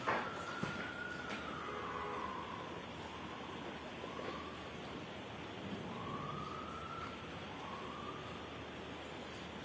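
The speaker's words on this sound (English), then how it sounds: "wait until the sirens pass" Sirens wail in long rising and falling sweeps as they pass outside a courtroom during a trial, somewhat distant, over a constant rumble of background noise.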